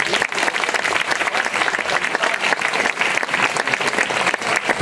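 Outdoor crowd at a folklore festival applauding a visiting dance group from Jakarta, Indonesia: sustained, dense clapping of moderate loudness that keeps a steady level from start to finish.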